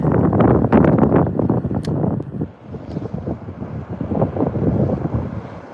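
Strong wind buffets the microphone in loud, rumbling gusts that rise and fall continuously while fishing on open water, with faint water sounds beneath.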